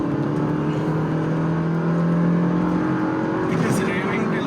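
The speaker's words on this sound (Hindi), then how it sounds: "it is raving till 6000 RPM" A Maruti Grand Vitara Delta's engine revs up toward 6000 RPM during hard acceleration, a steady droning hum rising in pitch, heard from inside the car with a voice talking over it.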